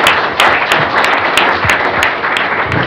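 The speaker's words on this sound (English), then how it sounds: "Let's give our great panelists a round of applause." Audience at a trade law conference applauds the panelists, a brisk, fairly loud wash of many hands clapping close by, with no talk over it.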